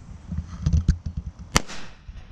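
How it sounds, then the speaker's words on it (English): Small firecrackers go off outdoors during a Fourth of July celebration: a scatter of soft crackling pops, then one sharp, loud bang followed by a fading hiss. "Little firecrackers."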